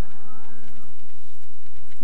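A cow moos once in the farming video game Stardew Valley, a single loud, close, drawn-out low call that fades over about a second, with nothing else heard.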